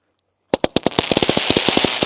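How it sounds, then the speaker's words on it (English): The Sky High fireworks cake by Dominator Fireworks goes off after a moment of silence, firing a rapid string of sharp, loud cracks that build into a dense, crackling barrage. "take a look at Sky High by Dominator Fireworks"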